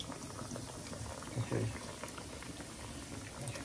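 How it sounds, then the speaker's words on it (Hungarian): Potatoes boil in a pot on the stove, a soft, continuous bubbling and rolling simmer with occasional louder pops, heard low and steady. "Közben fő a krumpli, a főtt krumpli."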